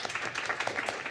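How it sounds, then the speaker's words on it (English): Brief, thin applause from a small group at an in-person healthcare simulation session, a scattering of claps lasting about a second. "Tepid applause."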